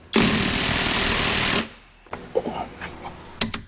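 A budget impact wrench fitted with a torque stick hammers loudly on speed setting 3 in one continuous burst of about a second and a half. Scattered clanks and handling noises follow.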